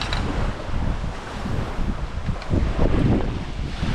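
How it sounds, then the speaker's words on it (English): Strong outdoor wind at a lakeside camp cooking spot, a continuous loud buffeting roar that gusts and swells across the whole clip with no voices. "There's so much wind I could barely get the stove to stay lit."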